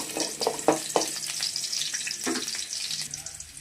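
Sliced onions fry in a pan, giving a close, steady sizzle scattered with small pops and crackles, with a voice faintly under it.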